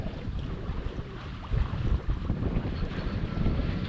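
Sailboat under sail in roughly 9-10 knots of wind off the Provence coast near Port-Cros, with steady wind rumble and water rushing along the hull, louder gusts midway, no voices.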